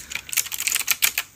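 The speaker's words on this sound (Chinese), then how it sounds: "有点像打字机的感觉， 而且它有很强的段落感， 就是咔嚓咔嚓的声音。" Clicky mechanical keyboard with tactile switches being typed on, giving a rapid, uneven run of sharp, crisp clacks up close with no voices.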